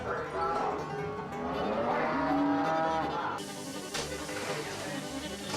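Cattle low and moo at a cow sale in Cartersville, several drawn-out calls rising and falling over a busy background of people talking nearby.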